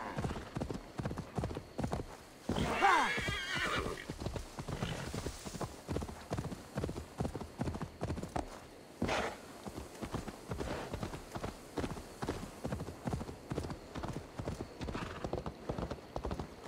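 Steady clip-clopping of horse hooves at a brisk trot in Assassin's Creed Valhalla, continuing throughout with a brief whinny early on, over quiet background.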